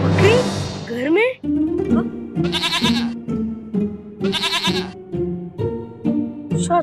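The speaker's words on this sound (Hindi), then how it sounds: "शेरनी, ये तो प्यारी सी बकरी है।" A goat indoors in a house bleats several times, with loud, wavering harmonic cries spaced a second or two apart. People speak between and over the calls.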